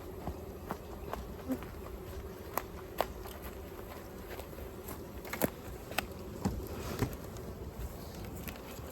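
Honey bees buzz faintly around hive frames during a spring hive split. A soft, steady insect drone is broken by scattered light clicks and knocks from handling the frames.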